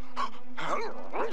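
A cartoon dog whimpers and yips in a few short, high, whiny bursts over a steady background hum, close and moderately loud.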